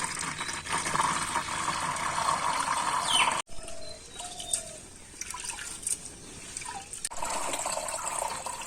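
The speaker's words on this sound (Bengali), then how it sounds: "জলটা ফেলে দিই।" Water is poured off from a cooking pot while making village-style Bengali khichuri, a steady close splashing pour that breaks off abruptly, leaves a few drips and trickles, then resumes as a gushing stream.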